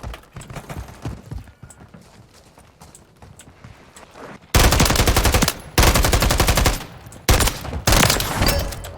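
Gunfire in Call of Duty: Warzone (Modern Warfare III): after a quieter stretch of faint in-game activity, three loud, rapid bursts of close shots erupt one after another, separated by brief gaps.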